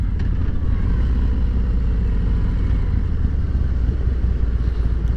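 A 2023 Harley-Davidson Road King touring motorcycle engine on a ride, a loud, steady low rumble with continuous wind roar, close and unbroken throughout, no voices.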